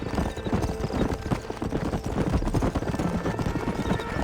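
A horse gallops in Red Dead Redemption, with rapid, dense clip-clop hoofbeats that carry steadily throughout, close and loud.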